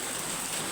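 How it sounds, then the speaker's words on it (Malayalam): Heavy rain pours steadily as a dense, even hiss, close and continuous with no voices over it. "നല്ല മഴയാണ്"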